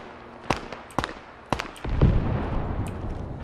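Gunfire in the video game ARMA, during a co-op assault on Lang Vei: four sharp, evenly spaced shots ring out, then a heavier, rumbling burst follows and fades into a steady wash of distant combat noise.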